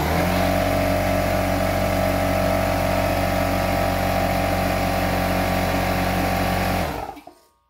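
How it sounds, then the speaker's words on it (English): A pancake air compressor runs at a loud, steady drone with a strong hum and rattle, measured around 100 dB, before cutting off and fading out near the end. "So here we go with the pancake compressor."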